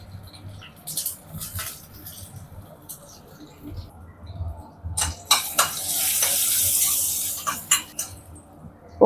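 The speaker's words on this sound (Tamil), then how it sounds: "இதில் நான் வந்து மிளகு மட்டும் போட்டு தாளிக்கிறேன்" Black pepper crackles and sizzles in hot oil while tempering for pongal, scattered bursts, with a louder hiss swelling midway and a few stirring clinks.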